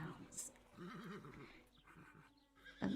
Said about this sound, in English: Neighing sounds.